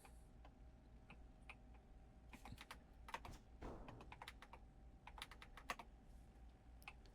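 A retro 8-bit style computer keyboard is typed on in irregular bursts of sharp, faint clicks and taps over a quiet background hum, with no talking.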